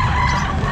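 A young bull stag rooster, a golden boy, crows at a busy pet market in Calumpit, one short loud burst over steady background bustle with no talk.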